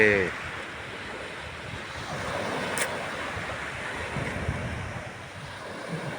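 Sea waves at Nam Rin beach, Map Ta Phut, Rayong, Thailand, give a constant washing roar of surf, with wind buffeting the microphone throughout.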